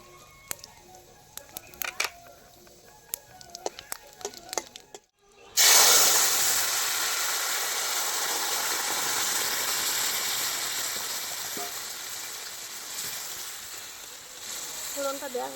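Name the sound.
tempering dry chili, cumin, cardamom, clove in hot oil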